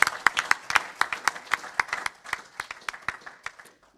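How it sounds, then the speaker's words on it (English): A modest audience at a Scouts annual general meeting applauds, with distinct individual claps standing out in a fairly steady rhythm that gradually thins and fades toward the end. "applause for those 4 people."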